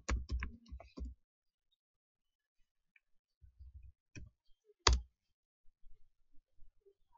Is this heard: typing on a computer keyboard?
yes